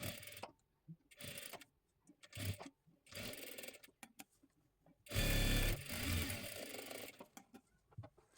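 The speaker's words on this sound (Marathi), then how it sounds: "आता इथे त्रिकोणी अशा पद्धतीने शिलाई देऊन घ्यायची आहे." Sewing machine stitching a boat-neck princess blouse, several short rattling bursts and a longer loud run, with pauses of quiet handling between them.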